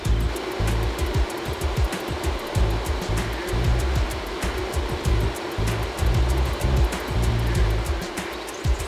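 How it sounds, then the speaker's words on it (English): Ozone gas diffused into water as tiny bubbles in large concrete tanks at a drinking water treatment plant makes a steady, rushing, bubbling roar with a faint fast ticking, continuous and close, with no talking. "Next, we diffuse the ozone into the water as tiny bubbles."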